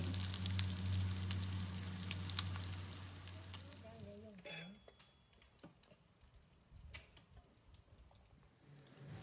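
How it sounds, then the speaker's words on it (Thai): Salt-coated mackerel fries in a pan in a Thai home kitchen, a steady, fairly loud sizzle at first that fades to a quieter crackle with faint clinks. "ตามด้วยปลาทูคลุกเกลือทอด"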